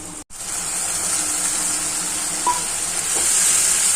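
Onion with ginger-garlic paste frying in a pan for a spicy puti fish curry, giving a steady close sizzle and hiss throughout with a brief clink near the middle, no talking.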